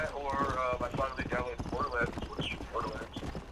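Horse hooves clip-clopping in Red Dead Redemption, a steady rhythmic beat of hoofsteps heard under continuous talking from players.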